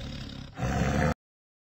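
Tiger roaring in a brief, deep, raspy burst that swells midway and cuts off abruptly, close and loud with no other sound.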